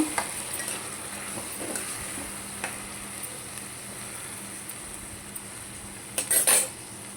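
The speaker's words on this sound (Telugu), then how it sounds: "ఇప్పుడు టమాటా మొత్తం మగ్గాలండి కొంచెం" Tomatoes soften in a pan for a Tamil Nadu-style raw mango and jaggery chutney, giving a steady close hiss of cooking with occasional light scrapes and a cluster of louder utensil clatter near the end.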